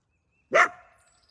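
A single sharp bark rings out from a coyote caught in a snare, loud and close, then fades quickly into quiet.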